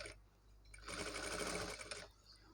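A Maggam-work blouse is stitched on a sewing machine, a steady rapid whir of needle strokes that starts after a quiet moment, runs for over a second and then stops, with no talking.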